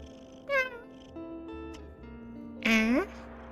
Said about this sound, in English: I love it when cats are chatty.